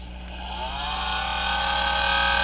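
Laptop vacuum cooler fan switched on, giving a steady droning hum with a whine that rises in pitch as it spins up. It is close and fairly loud, with no talking.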